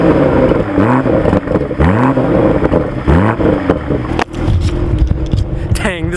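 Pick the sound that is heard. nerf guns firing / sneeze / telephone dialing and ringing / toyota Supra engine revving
toyota Supra engine revving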